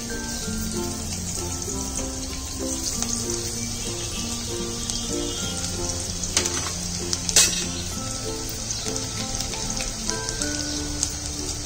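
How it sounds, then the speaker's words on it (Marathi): Chopped garlic hitting hot oil for a Koli-style halwa fish curry gives a steady, even sizzle that carries on for several seconds under soft background music. "आता मी ह्याच्यात तेल गरम झालं असं मी लसूण घालते"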